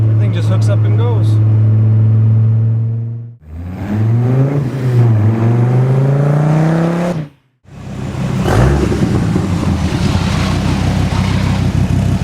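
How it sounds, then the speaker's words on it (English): A supercharged V10 in a 2002 Dodge Viper GTS revs and accelerates hard with rising engine tones, drops out briefly twice, then roars again close and loud. "I've heard the Viper criticized for its exhaust note, but I think it's probably one of the meanest sounding cars out there"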